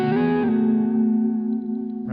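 Electric guitar bend lick played with a whammy bar, heavily distorted with chorus and echo, one sustained note wavering in pitch for about two seconds, loud and alone.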